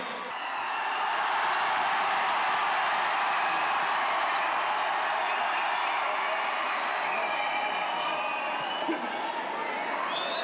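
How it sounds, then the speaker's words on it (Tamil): A large audience at a film title announcement event for Idhayam Murali claps and cheers for Niharika, a steady wash of crowd applause and whoops that holds at full strength throughout. "நிஹாரிகாவுக்கு ஒரு பெரிய கைத்தட்டல் கொடுத்துடலாம்"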